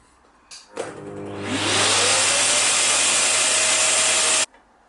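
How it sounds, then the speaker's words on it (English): A scroll saw fitted with a number two blade cuts through a disc of clear cast Alumilite resin, starting with a motor hum, then a loud steady rasping buzz that holds for about four seconds and stops abruptly. "Okay, so over to the scroll saw."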